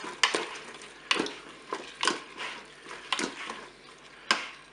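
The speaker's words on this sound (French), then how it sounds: "Je mélange." Potatoes being stirred in a Cookeo pot with browning aromatics, a series of scraping, sizzling strokes recurring every second or so, close and moderately loud.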